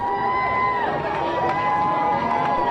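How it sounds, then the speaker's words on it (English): A crowd lining Main Street in downtown Northampton cheering marchers at the Pride March, a continuous roar of voices with a whistle-like tone running through it, dense and steady throughout. "Thousands of supporters lined Main Street in downtown Northampton, cheering the marchers"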